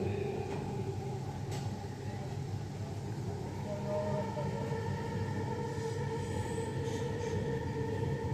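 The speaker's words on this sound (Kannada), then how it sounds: "ಟ್ರೈನ್ ಹೋಗ್ತಾ ಇದೆ ಹೋಗೇ ಬಿಟ್ಟು ಟ್ರೈನು" A Bangalore metro train runs along toward Jayanagar station with a steady, loud rumble and rail drone that lasts throughout, plus faint higher squeals and tones over the top.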